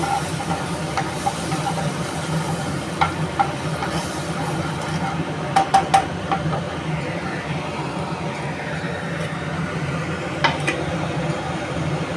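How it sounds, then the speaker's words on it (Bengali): An egg fries in butter in a hot kadai with a steady, soft sizzling hiss, dotted with a few light metallic clinks of a utensil against the pan. "কড়াতে বাটার দিয়েছি, দিয়ে আমি ডিমটাকে ভেজে নেব।"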